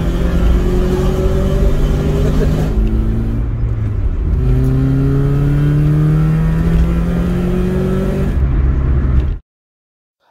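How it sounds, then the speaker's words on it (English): A classic Mini with a slightly blowing exhaust revs repeatedly, its engine note climbing and falling in several sweeps, loud and close, before cutting to silence near the end. "I think my exhaust is blowing ever so slightly more, but at the moment I don't really mind. It just makes it sound like a classic Mini."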